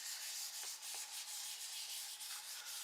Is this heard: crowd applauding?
no